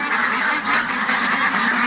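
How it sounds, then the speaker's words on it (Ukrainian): A dense flock of ducks around 50 days old quack continuously and close by, a busy overlapping chatter with no pauses. "Красавчики, прям 50 днів качечкам."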